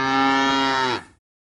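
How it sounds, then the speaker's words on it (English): An ox gives one long, loud, rich moo that holds steady, then trails off and stops, close up with nothing else heard. "Ox."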